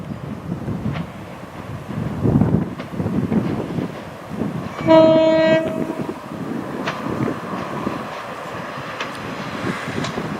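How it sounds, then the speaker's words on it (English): A Class 144 Pacer diesel train rumbles past outdoors on the Settle & Carlisle line with wind buffeting the microphone, and a loud two-tone horn blasts for about a second midway. "Because the train is coming. Here it is."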